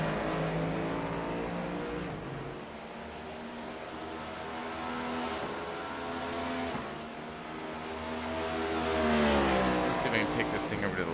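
Next Gen race car engines rise and fall in pitch as they accelerate out of the pits at Talladega, a sustained mechanical whine with a louder surge near the end.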